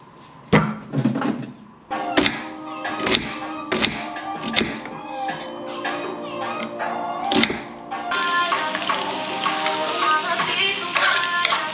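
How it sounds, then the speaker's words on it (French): Onions sauté in a frying pan, starting with loud thunks and clatters of pan and utensils, then settling into a dense, close sizzling hiss that stays loud through the end. "Poêle numéro 1 dans laquelle je vais faire sauter mes oignons."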